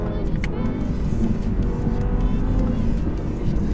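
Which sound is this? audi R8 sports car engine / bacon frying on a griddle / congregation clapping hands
audi R8 sports car engine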